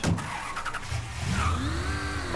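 A stolen car's engine in the Mafia 3 video game runs loud and steady, then revs upward with a rising pitch near the end, with no talk over it.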